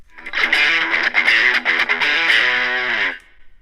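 An electric guitar with high-gain distortion from an effects pedal plays a thick, buzzing run of strummed chords, a few seconds of saturated tone that stops and leaves a short decaying tail.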